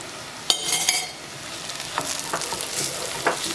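Onions and turmeric powder frying and being stirred in coconut oil in a pan, a steady close sizzle with a few sharp clinks of the spoon at the start and scraping strokes through it, no voices.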